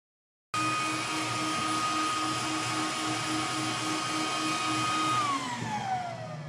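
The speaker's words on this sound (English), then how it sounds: "that is as far as we've gotten with this vacuum seeder" A student-built vacuum seeder prototype runs steadily, a loud continuous fan-like whine with a steady hum, the pitch sliding down near the end as it begins to wind down; no talking.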